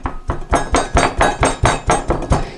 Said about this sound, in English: you just do a little pounding here just to thin it out just a little bit